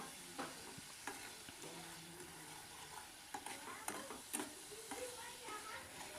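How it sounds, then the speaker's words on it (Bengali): Slit green chilies cook in a spice mixture in a pan, with a continuous fine sizzle under repeated scraping stirs and light utensil taps, close by but fairly quiet throughout. "দিয়ে আবারও আমি নাড়াচাড়া করে রান্না করতে থাকবো"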